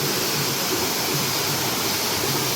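Raika waterfall at Jateswar Dham beside a temple, a dense continuous rush of falling water heard close and loud without pause.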